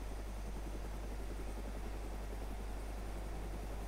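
A helicopter in the game DayZ flies low over an airfield, its steady, dense rotor and engine drone filling the scene continuously with no break.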